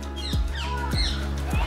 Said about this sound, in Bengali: Rose ringed parakeet.